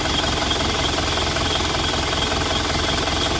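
An Isuzu Panther engine revving high during throttle adjustment, a loud, steady, close mechanical roar with a rapid knocking rattle that never lets up.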